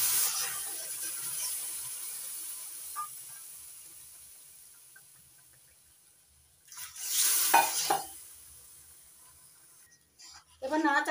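Semolina and milk stirred in a pan, a faint steady hiss of simmering with a louder burst of scraping and bubbling near the end, quiet throughout.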